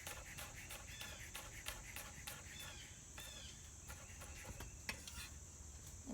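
A knife chops a peeled garlic clove into tiny pieces on a cutting board, producing quick repeated light taps in an irregular rhythm, faint and close, over a high steady background hiss.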